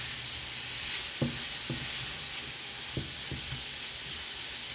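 Smoked turkey sausage sautés in a pan with a steady soft sizzle, broken by a few scraping stirs of a utensil, with no voices.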